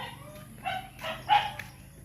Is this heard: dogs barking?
yes